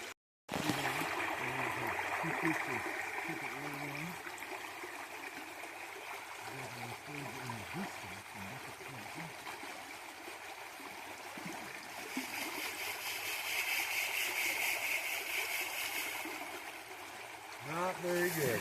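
Strong steady rush of water flowing through a gold sluice, a broad continuous wash with splashing, while people talk over it throughout.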